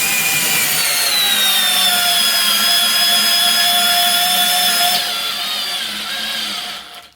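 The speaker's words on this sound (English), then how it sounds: "Somehow it provides constant torque to drill that leg in." A GardenJoy 21V Max Li-ion cordless drill/driver drives a leg into wood, with a loud, steady whining motor and grinding bite that drops in pitch partway through before winding down.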